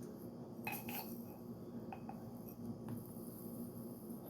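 A small scoop scrapes and taps inside a container while an ingredient is taken out, giving light metallic clinks and scratches scattered over a few seconds, close and quiet with no voices.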